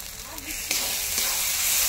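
Turmeric and sugar hit hot spices in a pan for a Bengali mourala fish curry, giving a steady close sizzle with a few faint stirring scrapes and no talk.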